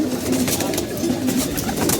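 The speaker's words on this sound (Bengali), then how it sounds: "কবুতর এক একে ঢুকবে" Pigeons coo at a loft as they file in one by one, repeated throaty coos close by over a steady, noisy backdrop.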